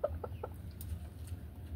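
A fighting rooster gives three quick, soft clucks at the start, then quiet farmyard background with low hum.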